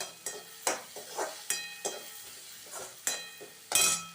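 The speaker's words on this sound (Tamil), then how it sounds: "அடுப்பை சிம்லேயே வச்சுட்டு இதை வதக்கிக்கலாம்" Capsicum being sautéed on a low flame for a mixed vegetable curry, with a spoon stirring and scraping the pan in repeated strokes about every half second over a soft, steady sizzle, close and clear, with no talking.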